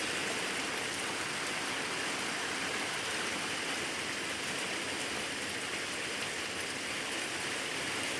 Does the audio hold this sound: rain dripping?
yes